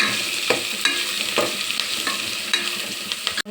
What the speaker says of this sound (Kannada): ಎಣ್ಣೆಯಲ್ಲಿ ಫ್ರೈ ಆಗಲಿ